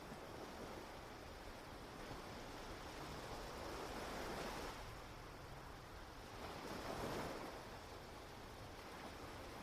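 Waves surge and break on Reynisfjara's black volcanic sand beach in Iceland, a faint, continuous wash of surf swelling twice, mixed with wind noise and no voices.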